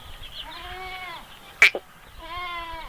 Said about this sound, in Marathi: इकडे आमची बकरी आहे